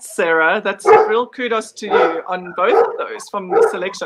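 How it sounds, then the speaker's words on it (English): Several dogs bark and yip repeatedly close by at a doorbell in a home, loud bursts overlapping a person speaking throughout. "Please excuse my dogs."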